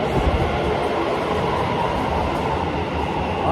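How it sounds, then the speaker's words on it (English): A train pulls into a station in Tokyo, Japan, with a loud continuous rumble of rolling railcars and wheels filling the space, close and steady throughout with no voices. "the trains are here"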